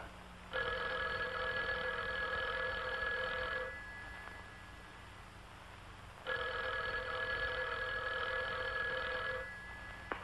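An old telephone bell in a 1951 Western comedy rings in two long, loud bursts of about three seconds each, separated by a quieter pause, with no talking over it.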